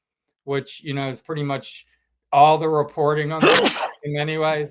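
A single sharp sneeze breaks into a podcast conversation between men, a brief close burst amid steady talking.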